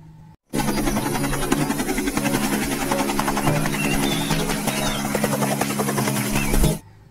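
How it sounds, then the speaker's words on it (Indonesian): A toy helicopter's small motor buzzes loudly and close, starting abruptly and holding a steady whirring drone for about six seconds before cutting off, with no talking over it. "Ada helikopter."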